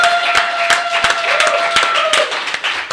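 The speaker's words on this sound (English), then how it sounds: "another round of applause" Applause from a podcast studio audience honoring guest Ken Coleman, scattered sharp claps over a tonal background hum, fairly close and loud, thinning toward the end.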